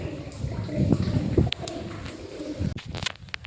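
Pigeons cooing and fluttering near a summer water trough by a well, soft calls over light rustling and a faint trickle of water, fairly close.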